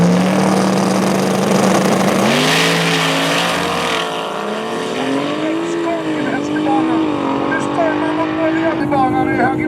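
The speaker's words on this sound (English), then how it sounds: "så vacker burnout i vänsterbanan" A car doing a burnout in the left lane at a Swedish drag racing event, with a loud, sustained engine roar rising in pitch alongside screeching tire squeal, while a commentator talks over it throughout.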